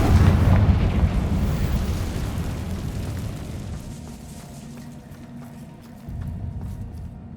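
Bombarda and Confringo explosion spells cast in Hogwarts Legacy, giving a loud rumbling boom up front that slowly fades, then a smaller blast near the end.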